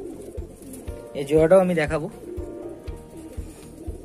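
Kalanka pigeons coo close by, a throaty rising-and-falling call swelling for about a second in the middle, while someone talks over a steady low rhythmic knocking.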